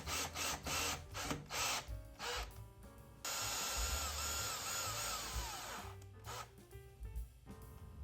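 A power drill drives screws to mount a bracket for LEVOLOR Tatami bamboo window shades, running in several short whirring bursts and then one longer steady run, with brief pauses between.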